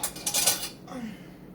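A metal spoon clinks and scrapes in a bowl while scooping sticky honey mixed with brown sugar for a body scrub, a brief close clatter that fades into quiet.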